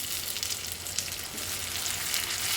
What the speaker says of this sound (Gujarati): ટામેટાં સોફ્ટ થાય ત્યાં સુધી શેકી લઈએ।